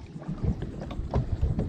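Small fishing boat drifting close to a dock on windy, shallow coastal water near Topsail, North Carolina, with steady wind rumble on the microphone and low irregular water and hull knocks throughout.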